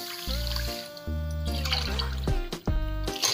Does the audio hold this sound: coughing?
no